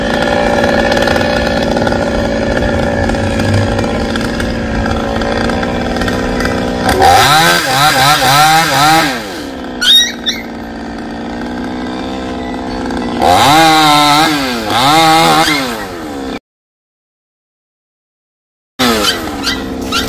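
A chainsaw cuts into a large golden-flowered acacia tree, its engine droning loudly with several revving surges, then cutting out into a brief silence before starting again.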